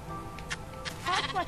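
Sheep in the Minecraft video game bleating several times in quick succession, nasal wavering calls close and clear over a low game background.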